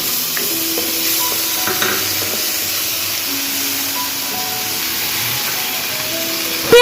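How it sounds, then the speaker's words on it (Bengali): Onion sizzling in hot oil tempered with dried red chilli and bay leaf, a loud, steady, close hiss of frying with soft stirring scrapes running through it. "প্রথমে আমি শুকনো লঙ্কার তেজপাতা ফোড়ন দিয়ে দিলাম তারপর পেঁয়াজ"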